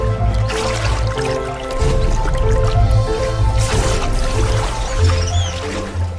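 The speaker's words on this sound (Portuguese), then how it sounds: "Quando vê um alvo, o aroanã salta da água para o ar." Water churns and splashes as an arowana leaps out of a river in the Amazon, a loud, close burst of sloshing and dripping liquid lasting several seconds.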